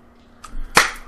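A single sharp, cracking gunshot in the video game L.A. Noire fires after a brief faint rustle, short and punchy against near silence.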